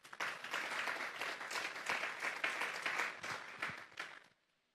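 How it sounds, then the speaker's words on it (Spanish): A church congregation claps loudly and steadily during a Sunday service, dense applause filling the room before stopping abruptly near the end. "Vamos a darle un fuerte aplauso pues al Espíritu Santo."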